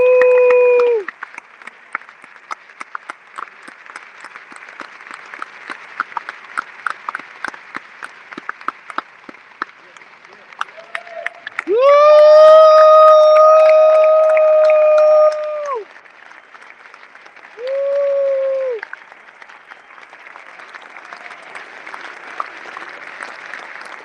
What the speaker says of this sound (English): I really would love for you to clap for each other